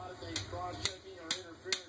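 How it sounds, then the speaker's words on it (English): Four sharp, evenly spaced taps of a hammer striking a stroller during a pretend repair, close and fairly loud within about two seconds, over a quiet room. "I think you need to use the hammer."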